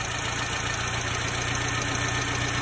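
A Sambar engine idles steadily while its carburetor is being tuned, a continuous close and fairly loud mechanical hum with a low, even rumble and no change in pace, with no voices over it.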